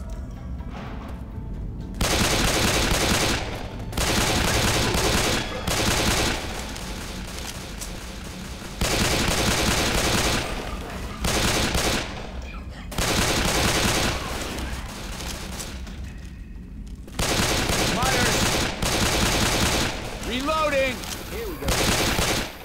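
Bursts of machine gun fire in Left 4 Dead 2 come in repeated loud rattling volleys, each lasting a second or two, separated by short pauses.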